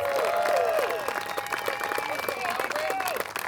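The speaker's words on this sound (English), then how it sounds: "One more big round of applause for these two competitors" A crowd claps steadily in a big, sustained round of applause at a disc golf match play final, with a loud announcer-style voice ringing over it.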